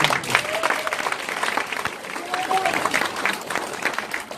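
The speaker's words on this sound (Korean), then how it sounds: "여러분 제 말이 맞으면 박수 한번 주세요." Audience applause at a Korean association gathering rings out in a dense wash, mixed with crowd murmur and voices talking over it throughout.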